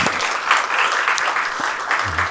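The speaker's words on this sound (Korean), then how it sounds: "우리 박수로 환영해 주시기 바랍니다." Congregation applause welcoming a guest at a staff worship service in a church broadcast studio: a sustained, even patter of many hands clapping, moderately close, with a brief low voice near the end.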